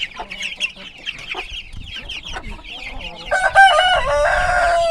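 Chickens cluck and a rooster crows at close range in a backyard flock that includes a small porcelain-gate bantam cockerel, with scattered clucks building into a loud, sustained crow near the end.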